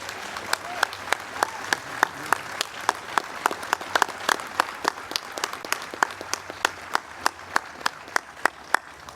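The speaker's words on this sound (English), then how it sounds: "how about one last round of applause for these two extraordinary gentlemen?" Applause at a university building renaming ceremony rings out as sharp, regular claps, fairly close and steady throughout, with a light crowd murmur underneath.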